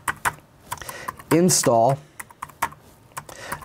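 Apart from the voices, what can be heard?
typing a command on a computer keyboard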